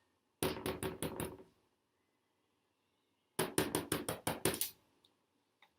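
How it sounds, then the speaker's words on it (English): Two bursts of knocking on a door, about five sharp close raps each, separated by a few seconds of quiet, crisp and distinct with no voices. "Barty went to the house and knocked on the door."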